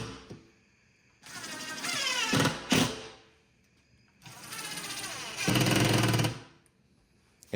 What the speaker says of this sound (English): After you have all your holes drilled, you can go ahead and start your lags.